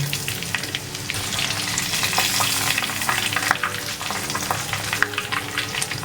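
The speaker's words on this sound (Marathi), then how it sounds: "झाऱ्यावरती असे पोहे घ्यायचे आणि हे तेलामध्ये असे बुडवायचे, थोडे थोडे फ्राय करायचे" Flattened rice dipped in a slotted ladle into hot oil in a wok fries with a loud, steady crackling sizzle, close up, with occasional stirring scrapes.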